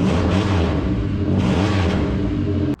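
A 1985 Pontiac 6000 wagon with a swapped supercharged 3800 V6 and an aftermarket performance muffler revs hard, its loud, close exhaust roar rising and holding before cutting off abruptly.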